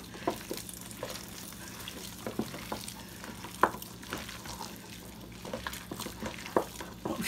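Salisbury steak meat mixture being worked together by hand in a bowl, giving soft wet squelching and stirring sounds in irregular bursts, close and moderately quiet, with no talking.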